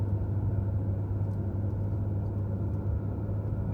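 A car engine rumbles low and steady in fourth gear on a mountain road from Newfound Gap to Gatlinburg, a constant drone heard from inside the cabin with no voices.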